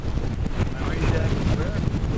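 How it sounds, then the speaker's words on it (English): Strong gusting wind of about 25 knots roars across the microphone aboard a sailboat racing in a regatta, a steady broadband rush with faint water and voices mixed underneath. "25 knots of wind."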